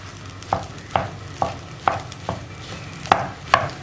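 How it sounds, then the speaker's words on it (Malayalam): A spoon stirs egg into cooked tapioca in a pan, giving sharp scraping clacks about every half second against a soft low sizzle, near and fairly quiet with no talking. "മുട്ട ചേർത്തിട്ട് നമ്മൾ വീണ്ടും മിക്സ് ചെയ്യണം."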